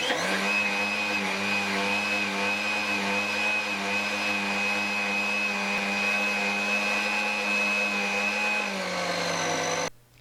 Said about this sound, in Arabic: غادي نطفي على الخلاط